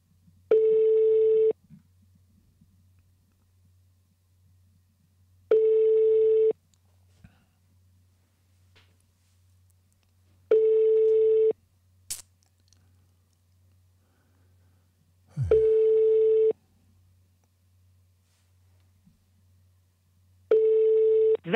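Ringback tone of an unanswered telephone call: five identical ring tones, each about a second long, repeat at steady five-second intervals over a faint low hum, with no voices.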